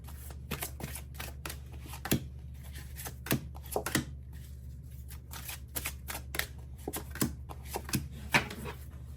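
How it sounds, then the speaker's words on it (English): Archangel Raphael oracle cards being shuffled by hand, a run of crisp riffling flutters and sharp card snaps at an irregular pace over a low steady hum, no voices. "Next, I'm going to be pulling from the Archangel Raphael deck."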